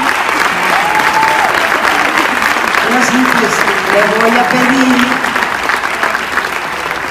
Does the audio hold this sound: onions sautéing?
no